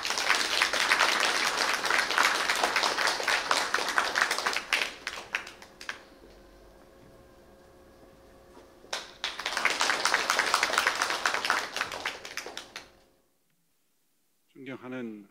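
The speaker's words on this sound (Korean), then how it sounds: "큰 박수로 맞아주십시오." An audience claps to welcome the Chinese ambassador at a Korea-China academic symposium opening ceremony; loud sustained applause fades to a quieter patch, swells again, then stops, followed by a brief voice.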